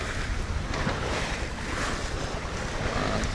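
Constant rushing of choppy, short sea waves at sea and wind noise on the microphone, a dense steady wash with no distinct breaking waves.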